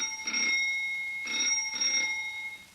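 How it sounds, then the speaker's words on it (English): Bell rung to summon a waiter gives three short bright rings in a steady rhythm, each about a quarter second long with a ringing tail, close and clear in a quiet room. "Will you ring the bell, darling?"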